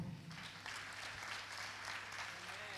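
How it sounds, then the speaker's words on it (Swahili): A congregation applauds at a Sunday church service, steady clapping from a crowd heard at a moderate distance over a low hum, with no single claps standing out. "Tupige makofi."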